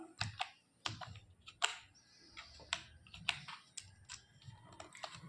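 Typing on a computer keyboard while entering a sum formula in a LibreOffice Calc spreadsheet, a close, uneven run of sharp key clicks and taps with no talking.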